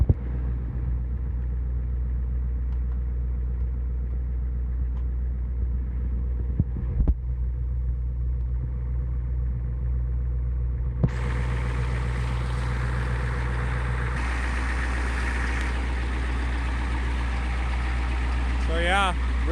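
A 1991 Ford E350 van with a 7.3 engine runs with a steady low rumble, then shifts into gear and drives off. The engine note grows broader and brighter partway through, and someone talks over it.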